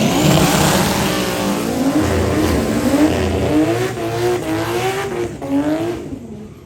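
Race cars rev loudly and continuously at a Limited Street drag racing qualifying session of an import-versus-domestic event, the engine pitch climbing and wavering close by, with no talk.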